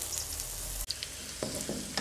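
A bitter melon stir-fry with anchovies sizzling in a pan, a steady close hiss with a brief cut near the middle and a few light stirring clatters.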